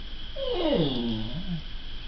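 An 18-year-old deaf border collie and Feist mix lets out a single drawn-out whining howl that slides downward in pitch, close and fairly clear over a faint steady hiss.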